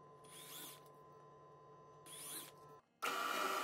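A drill press with a tiny bit boring small holes through wood blocks for a rat wakebait lure: two short whining bursts of drilling with a steady motor hum between, then a louder continuous run at the end.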